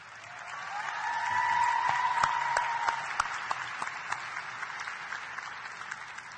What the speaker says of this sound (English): Will you stand and let us applaud you?